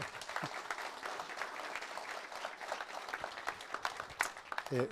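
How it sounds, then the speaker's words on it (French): Audience applause following a testimony at a talk on organic mixed crop-livestock farming, a fairly faint, continuous patter of claps with no voices over it. "Je pense que vous pouvez l'applaudir."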